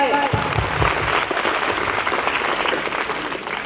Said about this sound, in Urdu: تو چلیے ہم آپ کی تالیوں کے ساتھ ان کو بلاتے ہیں